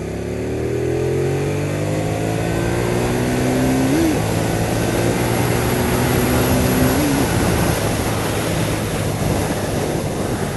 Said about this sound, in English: You saw the acceleration of this bike.